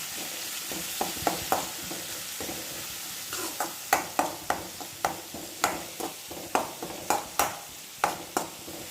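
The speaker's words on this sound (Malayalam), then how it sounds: "ഇതാ നന്നായി ഇളക്കി കൊടുക്കാം." Onions and curry leaves frying in a pan for a prawn dish, a steady sizzle broken by regular scraping strokes of a stirring spoon, close and moderately loud, with no talking.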